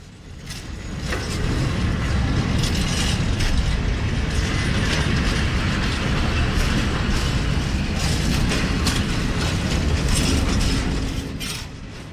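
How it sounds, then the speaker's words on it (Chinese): A freight train loaded with stones from the mine rumbles steadily past in Khouribga, Morocco, a loud continuous roar with metallic clanking and grinding of wagons, swelling in and fading slightly at the end, with no voices. "一列满载石块的火车从矿区隆隆驶向卡萨布兰卡的港口。"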